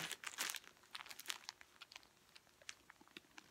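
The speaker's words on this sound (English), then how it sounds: "now I'm really going to be rustling" Crinkly packaging from a yarn and fibre haul rustles and tears in quick bursts, loudest at first, then settling into sparser, softer crackles with no talking.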